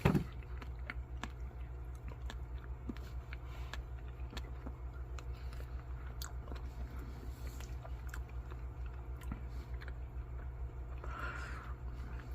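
Quiet close-up chewing of crunchy noodles from freeze-dried chili mac with beef, small irregular bites and crunches over a steady low engine drone of a vehicle.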